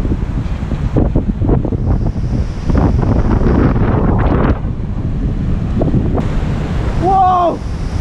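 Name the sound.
deep ocean waves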